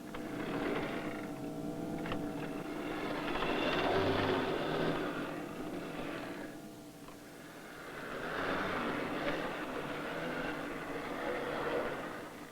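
An EEG-controlled toy train runs with a continuous whirring, mechanical hum that swells and fades over several seconds, fairly faint and steady, no voices.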